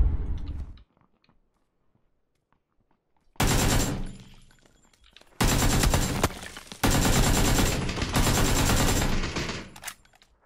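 Automatic rifle fire from the battle royale game PUBG on the Sanhok map rips out in three loud, close bursts, each lasting a second or more, with short silent gaps between them and no talking.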